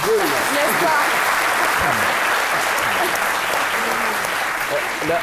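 Studio audience applauding during a French-language midday television talk show, a dense, steady clapping wash filling the clip with voices talking over it throughout.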